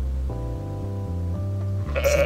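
A goat in Goat Simulator lets out a long, wavering bleat that begins in a low register and climbs to a sharper cry near the end, loud and close with no talk.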